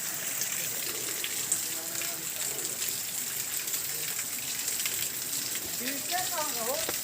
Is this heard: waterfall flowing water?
yes